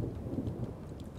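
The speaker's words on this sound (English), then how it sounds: "And it's raining too." Rain and rumbling thunder fill the scene as weather effects in the strategy game Total War: Rome 2, a dense, steady wash of falling rain with a low, continuous roll beneath it.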